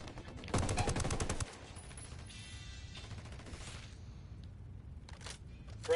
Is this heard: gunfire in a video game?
yes